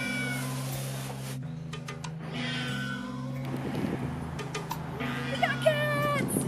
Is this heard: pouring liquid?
no